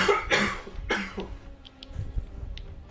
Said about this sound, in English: I found if I breathe through my mouth, I cough.